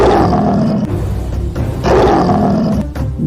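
A lion roars in two long, loud surges close by, each a deep rumbling bellow, with a brief gap between them and no talking.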